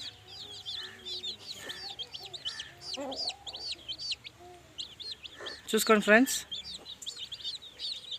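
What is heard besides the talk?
Kathai breed rooster clucking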